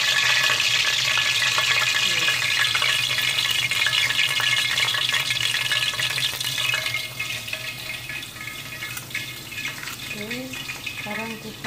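Fish fries in hot oil in a wok, giving a loud, dense sizzle that eases off partway through, with faint utensil scrapes near the end.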